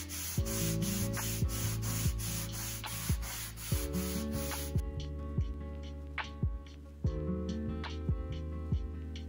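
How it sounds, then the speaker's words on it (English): Wood conditioner wiped by hand onto plywood shelves makes a steady rubbing that sweeps back and forth at close range, with regular strokes over a constant background hum. "So now I'm going to recondition the wood so that the wood can accept a stain more evenly."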